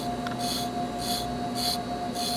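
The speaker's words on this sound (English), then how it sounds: "rub in one direction. It doesn't matter which direction. Here we're rubbing off all the charred area here" Rhythmic rasping strokes of rubbing charred skin after diode laser treatment, four even back-and-forth passes close up over a steady background hum.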